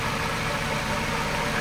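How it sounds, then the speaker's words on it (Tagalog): Honda City Type Z engine idling close by with a steady broadband hum, a rough power steering pump bearing adding a gritty, continuous whine and fine rattle; no talking. "Yung maingay na lang sa kanya yung magaspang etong power steering pump bearing."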